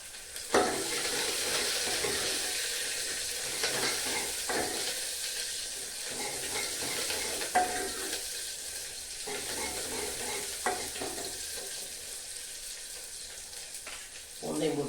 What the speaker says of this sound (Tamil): வெங்காயம் மிளகாய் போட்டுக்கலாம் கருவேப்பிலை